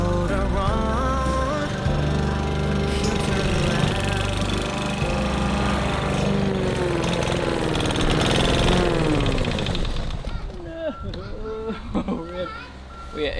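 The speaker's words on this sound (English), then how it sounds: "Say what you have to say, but don't forget to leave the motor on." Rotary lawn mower engine running steadily through most of the stretch, loud and close, with music playing over it before the engine noise drops away near the end.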